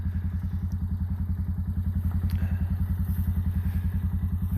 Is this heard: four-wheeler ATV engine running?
yes